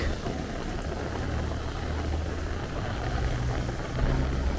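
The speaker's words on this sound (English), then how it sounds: "Actually, this is the best rain we've had this year so far on camera." Rain pours onto a city street in Astoria, Queens, a constant broad hiss with a low rumble of passing traffic underneath, holding steady throughout with no talking.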